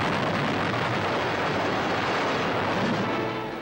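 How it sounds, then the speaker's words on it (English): Atomic bomb test explosion at night in the New Mexico desert, heard as a sustained, dense roaring rumble that fills the whole clip and fades slightly at the end. "Army cameras 6 miles away record the historic explosion."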